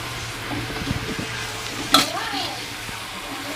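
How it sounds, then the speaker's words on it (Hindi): Carrot halwa (gajar ka halwa) being stirred and mixed in a pan, soft scraping and gentle sizzling with a single sharp clink of the spoon against the pan midway. "थोड़ा सा मिक्स करके इसको हिला दो, मिक्स कर देना सारे हलवे में थोड़ा सा"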